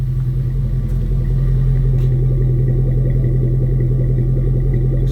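A 2002 Jeep Grand Cherokee with the 4.7 engine idles just after starting, with a fault that causes misfires. The low, steady exhaust rumble is close and continuous, and no one speaks.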